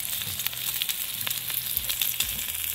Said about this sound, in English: Just sizzling away in that butter.